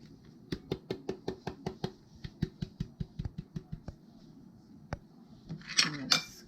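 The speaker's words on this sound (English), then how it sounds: "I'm going to scrape everything I can out of this" A spatula scrapes thick vegan cheesecake filling out of a bowl, a quick series of sharp, evenly spaced taps and scrapes, close and fairly quiet, followed by a couple of brief clinks.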